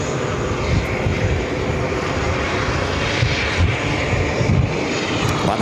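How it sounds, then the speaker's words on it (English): A Delta Airlines A330 arriving from Amsterdam lands on runway 22 left at JFK, a loud, steady roar of jet engines holding for the full stretch with a broad rushing tone and no voices. "On runway 22 left, coming up from Amsterdam, Delta Airlines Flight 47 and A330"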